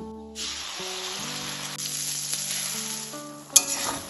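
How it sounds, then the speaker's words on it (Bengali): Finely mashed green pea paste goes into hot oil seasoned with hing and nigella seeds, setting off a loud, steady hiss and sizzle that holds throughout, with a sharp spatter near the end and no talk. "এবার এই তেলে দিয়ে দেবো মিহি করে পেস্ট করা মটরশুঁটি।"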